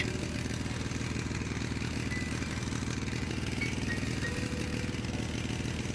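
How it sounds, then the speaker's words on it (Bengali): A motorcycle engine drones steadily at high speed along a paved road at night, a continuous close rumble with no pauses and no voices. "শিমুলের মোটর সাইকেলটি প্রবল বেগে এগিয়ে চলেছে পিচের রাস্তা ধরে"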